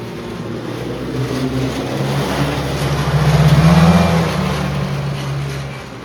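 A vintage snowmobile engine with a used replacement motor runs steadily nearby, a loud continuous drone that swells slightly as it revs and then settles.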